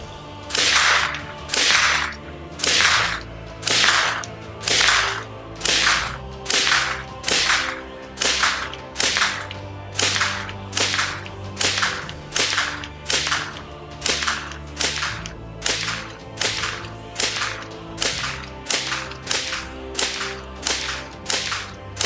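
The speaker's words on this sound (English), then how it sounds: "30 rounds of Freedom Munitions, 55 grain remanufactured is what we're using." An AR-15 rifle firing Freedom Munitions 55 grain remanufactured ammunition, about thirty loud, sharp shots in a steady, rapid rhythm, each crack followed by a short ringing decay, with no talking between them.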